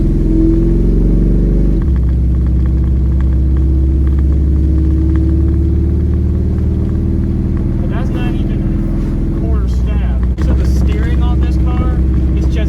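A 1997 Chevy Camaro engine rumbles loudly and revs, its deep drone shifting pitch as it accelerates, with brief crackles near the end.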